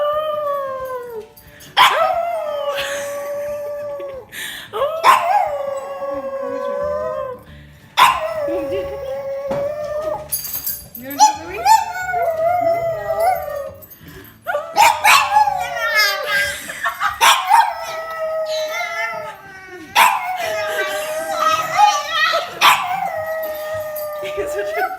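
A dog howls repeatedly in long wavering cries with yips and barks mixed in, close and loud, while a person speaks between the howls.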